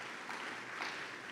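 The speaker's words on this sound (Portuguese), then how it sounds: "Salve de palmas para os homens casados aí" A church congregation claps for the married men, a steady wash of applause from many hands, even and somewhat distant.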